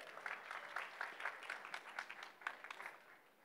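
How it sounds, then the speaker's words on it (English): An audience at a live startup pitch event claps for a presenter, a modest scatter of distinct hand claps with a slightly uneven rhythm, fairly faint and slowly tapering off. "Round of applause for Jose."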